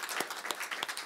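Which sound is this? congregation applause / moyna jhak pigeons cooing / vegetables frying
congregation applause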